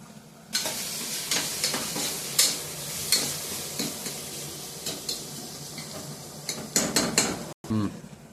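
Ginger garlic paste and turmeric powder sizzling in a hot pan, a steady close frying hiss broken by repeated scraping stirs and light clinks of a utensil against the pan.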